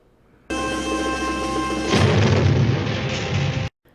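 A car explosion in a Mission Impossible TV episode bursts in with a loud, sustained roar, a steady engine-like tone giving way to a rumbling, crackling blast that holds for a couple of seconds before cutting off abruptly.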